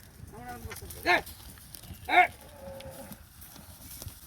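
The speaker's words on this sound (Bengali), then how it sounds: "এখন যে ফাইট লাগছে গুরুতে কি অবস্থা" Cattle at a large livestock market in America, jostling and fighting, give two loud, close bellowing moos about a second apart, with voices and general market noise continuing underneath.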